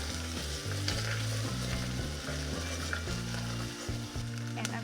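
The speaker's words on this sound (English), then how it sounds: "Give it a stir." Thai green curry chicken soup stirred in a pot, a steady bubbling sizzle with occasional scrapes and clinks of the spoon against the pot, continuous and close, with low-pitched tones running underneath.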